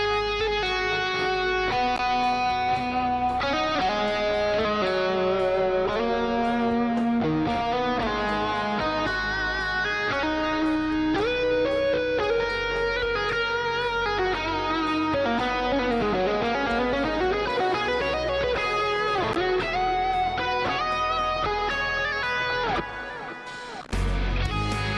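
An electric guitar playing a solo lead tone through a Helix Native amp simulator plugin, sustained distorted melodic lines with bends and fast runs, continuous and close, fading out near the end.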